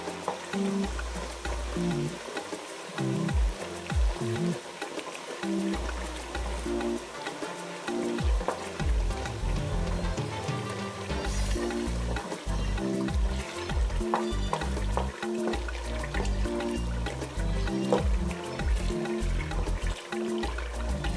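Tomato paste fries in a pot for a Ghanaian waakye stew, a dense, steady sizzle close by, broken by rhythmic scraping and stirring strokes throughout.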